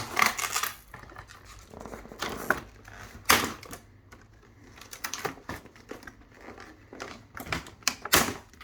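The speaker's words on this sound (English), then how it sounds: "Right, rip it open, Joel." A package ripped open by hand: sharp tearing and crinkling bursts of paper or plastic, close and fairly quiet, coming in irregular short spurts with pauses between.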